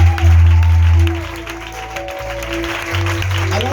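A church congregation applauding and cheering for God during an evening prayer and confession service, a steady wash of clapping carried over sustained organ-like music tones throughout.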